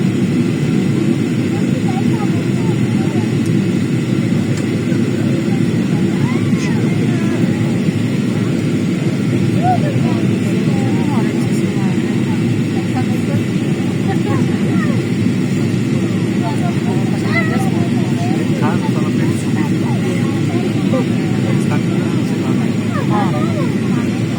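A steady, loud airplane engine roar heard from inside the passenger cabin during flight among clouds, a constant broadband drone lasting throughout with little change.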